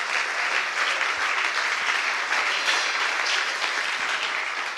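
A congregation applauds during a church sermon, a steady, dense wash of many hands clapping that holds at an even level throughout without any speech.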